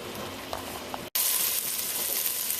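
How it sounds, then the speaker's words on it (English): Sausages browning in a pot over raised heat give a steady, loud sizzle and fry with no voices, a brief break near the middle before the hissing resumes even stronger. "crank up your heat a little bit to start browning the sausages"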